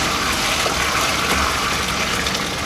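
Reverse osmosis water pours steadily into a brewing kettle, a continuous broadband gush of liquid filling the vessel at close range with no voices.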